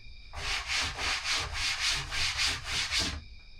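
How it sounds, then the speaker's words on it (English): Rough unsanded wood is rubbed in about ten quick back-and-forth strokes, an even scratchy rasping rhythm, close and fairly quiet. "This is how the wood sounds like when it's not sanded."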